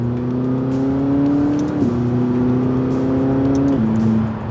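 A McLaren 540C sports car engine revs with a smooth, rounded, steady drone that holds its pitch, steps briefly, then settles lower, loud and close, with no voices.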